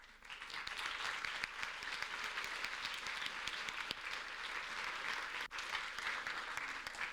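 Steady, dense applause from an audience at a final project presentation, continuous clapping that holds at an even level for several seconds with no speech.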